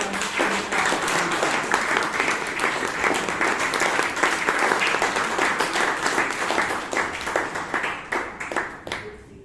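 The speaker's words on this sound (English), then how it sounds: "Can I have a big round of applause for" A room full of people applauds at a Bangalore Toastmasters meeting, dense, even clapping sustained for about nine seconds before thinning out at the end.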